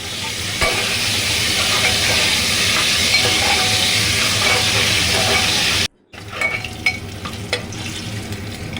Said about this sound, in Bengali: আলুটা ভাজা হয়ে গেছে, তুলে রাখবো।